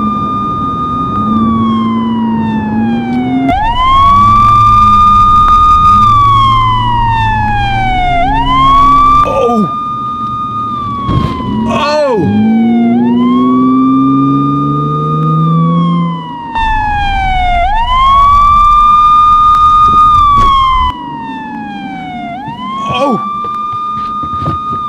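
Police sirens wail during a car chase, loud and close, rising and falling in a repeated cycle and continuing without a break for the whole stretch over a rumbling vehicle.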